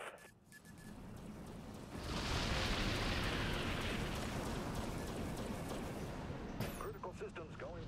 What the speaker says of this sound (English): Enemy warheads locked on our position. Multiple impacts detected.